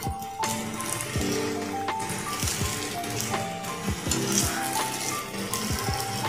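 A snack sizzles in hot oil in a frying pan, with continuous crackling and occasional clinks and scrapes as pieces are turned.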